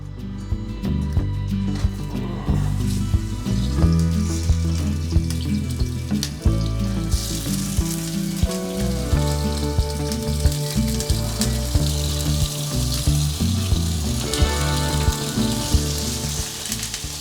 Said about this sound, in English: यहाँनिर हामीले बदाम पनि भुट्दैछ